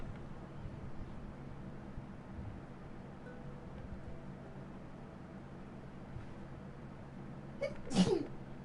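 A single sneeze bursts out near the end, brief and fairly close, after a stretch of quiet low background hum.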